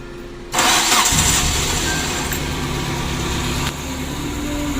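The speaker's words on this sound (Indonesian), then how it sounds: "Kita starter lagi." A Suzuki Carry 1.5 injection engine, running rough, is cranked by the starter and catches, then settles into a loud, steady idle close by with no talking.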